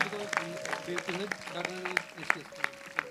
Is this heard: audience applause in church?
yes